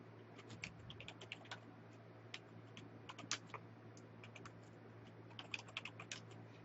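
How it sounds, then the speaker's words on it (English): Keys tapped on a Commodore 64 keyboard while a short program goes in, soft irregular clicks in quick bursts and pauses over a steady low hum, fairly quiet and with no voices. "I'm just going to go ahead and type this little program in there."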